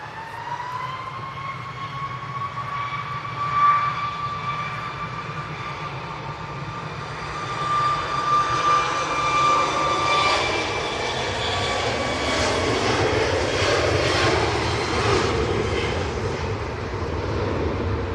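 A Ryanair Boeing 737 Max 8 jet passes nearby, a loud steady engine roar with a high whine that sweeps and shifts pitch as it goes by, swelling louder midway and holding to the end.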